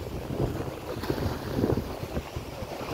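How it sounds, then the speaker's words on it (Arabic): Strong seaside wind sweeps the Mediterranean coast near Marsa Matrouh in Egypt, buffeting the microphone with a loud, continuous roar. Faint surf rumbles beneath the gusts. "طبعا الهواء شديد"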